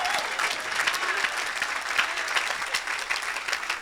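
A church congregation applauding a preacher, sustained close clapping from a large crowd that stays steady and energetic throughout the short stretch.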